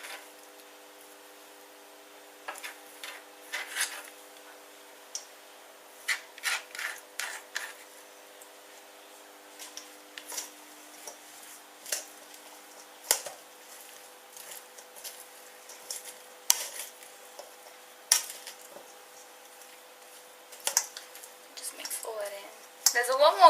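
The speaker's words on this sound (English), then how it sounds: "We're going to add the egg in now." Egg is stirred into a rice salad in a bowl, making soft, intermittent squishy, wet mixing sounds and light spoon taps over a quiet background.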